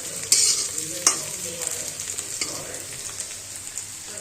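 Large potato pieces fry in hot oil in a home kitchen, a steady sizzle under several sharp scraping stirs, near and alone with no talk.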